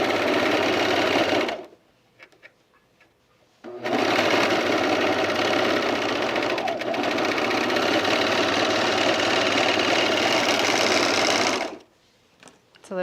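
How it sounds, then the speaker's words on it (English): An overlocker serges the seams of blouse fabric with a fast, steady mechanical whir: a short run, a brief pause, then a long unbroken run of about eight seconds, and the motor starting again at the end. "Let's overlock the seams."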